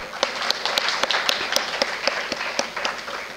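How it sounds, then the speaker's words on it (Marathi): Audience clapping at a lecture series event, a steady patter of many hands with sharper individual claps standing out, sustained throughout the short stretch. "त्या सर्वांसाठी एकदा जोरदार टाळ्या."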